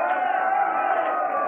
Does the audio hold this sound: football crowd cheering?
yes